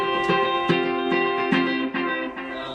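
Guitar notes picked in a quick rhythm through a delay pedal, each followed by softer repeating echoes that blur into a continuous shimmering pattern.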